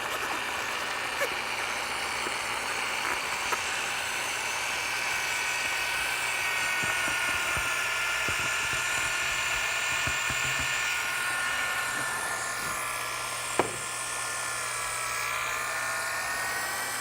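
A drill-driven mixer churns three-part self-leveling epoxy powder and liquid components in a bucket, a continuous steady whine with a low rumble running throughout, fairly close and without talk.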